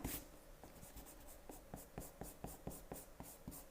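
An eraser is rubbed over pencil lines on easily erasable paper in quick repeated strokes, a soft scratchy scrubbing rhythm that is close and quiet, with no talking.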